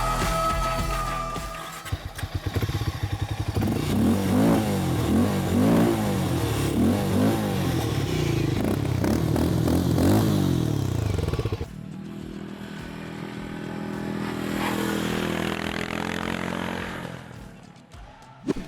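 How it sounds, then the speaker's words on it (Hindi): A Harley-Davidson X440 motorcycle idles, then revs hard several times, its exhaust note rising and falling close by. A quieter rumble and a second swell of revving follow, and no one speaks. "जो इसका एग्जॉस्ट नोट एक बार फिर से सुन लेते हैं।"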